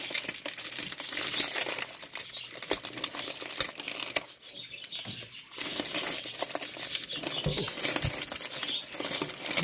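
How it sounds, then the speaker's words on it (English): Paper crinkling and tearing as it is gently unwrapped from a flower globe holding a real flower, a steady close rustle with brief dips, no talk over it. "You can gently take off the paper"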